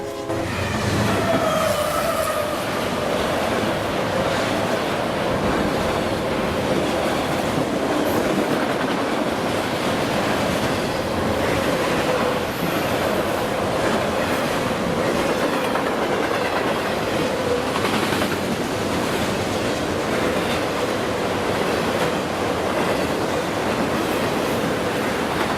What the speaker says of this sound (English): as we see eastbound manifest Q388 past our cameras. We won't be seeing Q388 for long, however, as a westbound auto-rack train quickly blocks out its view.